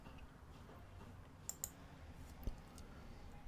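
A few crisp mouse clicks, two close together and then one more, while filling in a Zoom sign-up page, faint and isolated over low room hiss.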